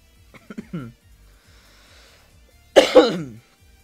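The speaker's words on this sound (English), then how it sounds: "sorry for coughing like in the mic" Two coughs into a microphone close up: a short burst of three quick hacks, a quiet pause, then two louder, harsher coughs.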